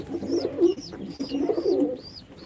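Rajshahi Giribaz and racer pigeons coo in low, throaty rolling phrases that repeat about four times, close and moderately loud, with faint higher chirps above.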